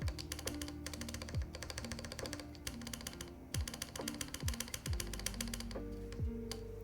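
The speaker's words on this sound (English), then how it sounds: "why is it making that clicking noise?" Fast, steady clicking from typing on a mechanical keyboard with a clicky switch sound, close and continuous, with tonal background music underneath.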